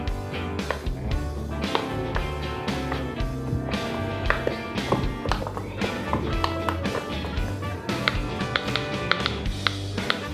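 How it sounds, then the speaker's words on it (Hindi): A heart-shaped silicone pop-it fidget toy is pressed in quick succession, producing a dense run of close, crisp taps and pops in an uneven rhythm. "इसकी भी आवाज़ दोस्तों थोड़ा करके सुना देता हूँ"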